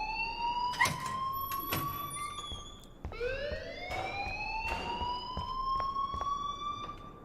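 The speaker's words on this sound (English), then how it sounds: "please turn off that alarm since that's your job" An alarm in the Life Is Strange video game wails in rising, repeating siren sweeps, steady and moderately loud, with occasional faint knocks beneath it.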